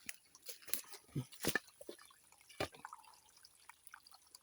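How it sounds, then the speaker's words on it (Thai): Water from a spring seep trickles and drips in soft, irregular splashes, faint and close, with a few brighter drops standing out and no talking. "เสียงน้ำไหล"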